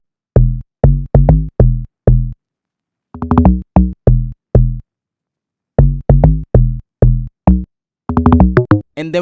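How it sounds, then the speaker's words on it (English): Afrobeats log drums programmed in FL Studio, a loud dry pattern of short pitched booming hits in syncopated clusters with brief gaps, ending in a quicker run of notes. "Now from here we are going to add some log drums."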